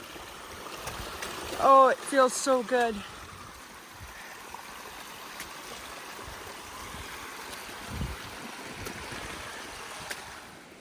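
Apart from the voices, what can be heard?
creek flowing water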